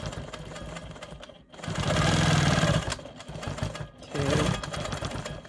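Quilt Maker Pro 20 longarm quilting machine stitching straight lines: a steady, close, loud motorized needle hum, rising in intensity in two longer runs with a brief pause between.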